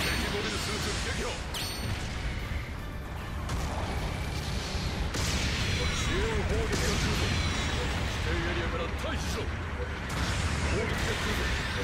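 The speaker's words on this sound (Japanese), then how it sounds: "支援砲撃の効果あり。" Support artillery bombardment in Gundam Battle Operation 2, a dense, continuous barrage of booming impacts and crashing blasts that never lets up, with voices talking over the battle noise throughout.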